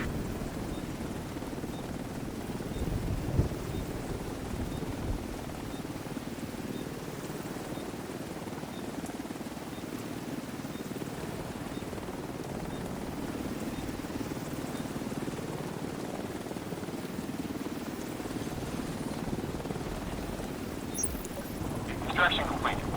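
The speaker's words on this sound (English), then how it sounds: "Helo is headed back." In The Division 2, a helicopter leaves after an extraction. A faint, continuous low rotor drone rumbles steadily for over twenty seconds with little change in level.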